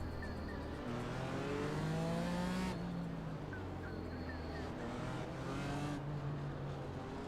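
A Ferrari race car in iRacing drones steadily with a constant engine tone, shifting pitch as it accelerates and changes gear, loud throughout with high whines and faint tire noise.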